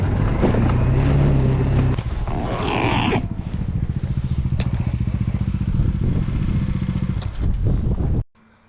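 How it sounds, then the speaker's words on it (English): A motorcycle ridden through snow on a mountain road between Jispa and Padum in Ladakh roars loudly and continuously with wind and rattling, its engine throbbing close by until it cuts off abruptly at the end. "It's snowing right now, and my bike is jumping right now."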